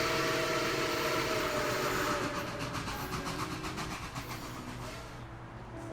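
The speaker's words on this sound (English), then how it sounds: "That's an Amtrak 3 blocks away" Amtrak train passing three blocks away, a faint distant rumble with soft rhythmic clickety-clack of wheels on rails that gradually fades.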